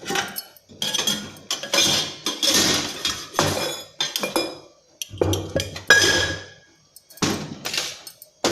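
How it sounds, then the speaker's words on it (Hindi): Steel kitchen utensils clink and clatter as they are stacked and put away, a series of sharp metallic knocks and rattles in irregular bursts separated by brief pauses, close and loud. "अब मैं ये पूरे बर्तन को ले जा करके यहाँ पर"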